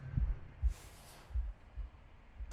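A deafening heartbeat pounds in the video game The Last Campfire, deep low thuds in an uneven rhythm of roughly five beats, close and alone with a soft whoosh partway through.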